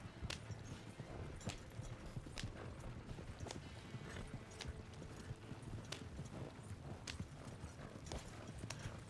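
Horse hooves clip-clop steadily beneath a heavy goods wagon in Red Dead Redemption 2, a continuous trotting rhythm with rattling wagon mechanics throughout, no one talking.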